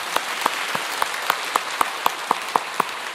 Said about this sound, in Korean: 믿으시는 분 박수로 환영하겠습니다.